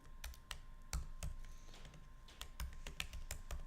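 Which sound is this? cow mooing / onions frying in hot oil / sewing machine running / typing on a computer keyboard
typing on a computer keyboard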